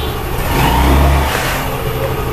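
A scooter engine, just back together after a gearbox and wheel shaft overhaul, runs and revs up in a short swell before settling, loud and close with a rough mid-pitched drone.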